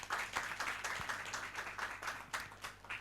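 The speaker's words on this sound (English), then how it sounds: "Please give them a round of applause." A conference audience at a World Energy Day event claps for the session speakers, a moderate, uneven round of individual hand claps with distinct louder claps popping out.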